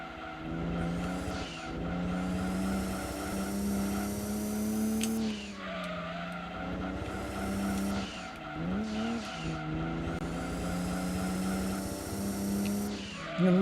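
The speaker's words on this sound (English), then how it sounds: "I'm gonna listen to those tyres dying" Race car tyres squealing through corners during a 300 km Grand Valley endurance race in Gran Turismo 2 on PS1, worn tyres screeching loudly over a droning engine, with repeated sustained squeals and shifting pitch as the car slides.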